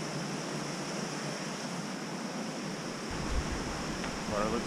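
A mountain creek in the North Carolina backcountry, heard as a steady broadband rush of flowing water, close and even, with a slight low rumble rising in the latter half.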